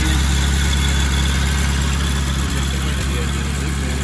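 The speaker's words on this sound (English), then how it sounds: "An 8-cylinder inline engine with a flat head." An inline eight-cylinder flathead engine with its cam low in the block idles loud and close as a steady low rumble that holds evenly throughout.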